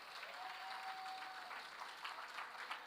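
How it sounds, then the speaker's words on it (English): An audience at a long-service awards ceremony applauds the planning committee with faint, distant, steady clapping that fills the whole stretch, with a brief tonal hum partway through. "let's give them a round of applause"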